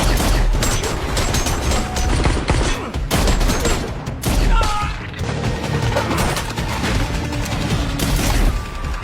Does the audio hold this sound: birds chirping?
no